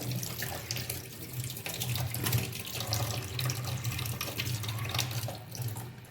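Tap water running steadily into a kitchen sink while goat mutton is washed, a close, continuous splashing rush with a low hum underneath and no speech.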